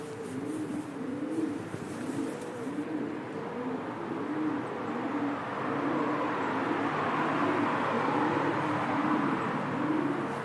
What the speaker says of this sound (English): As you can hear, there are plenty of pigeons about.